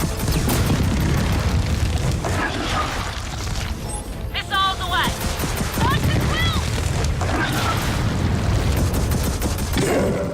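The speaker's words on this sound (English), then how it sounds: "Rockets away." Rockets fire and burst in Gears of War 4, heavy booms and blasts rolling over continuous loud battle noise with gunfire-like crackle, while voices talk over the action.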